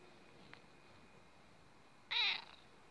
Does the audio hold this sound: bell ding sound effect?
no